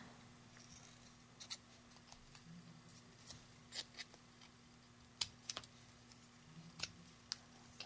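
A flower paper punch snapping through basic black paper, a series of faint, sharp clicks at irregular intervals over a quiet steady hum, no talk.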